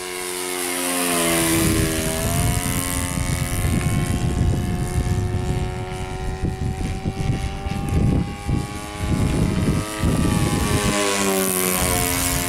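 A model de Havilland 82A Tiger Moth biplane with an OS FS 40 four-stroke engine flies past, its buzzing propeller drone swelling loud and close, shifting pitch as it passes and holding steady for several seconds.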